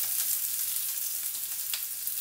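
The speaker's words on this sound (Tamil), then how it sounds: "ஆனியன் கொஞ்சம் சிவப்பாக ஃப்ரை பண்ணலாம்." Chopped onions sizzle steadily in hot oil with fennel seeds and curry leaves for an aloo mutter masala, a close, continuous bright frying hiss with faint stirring.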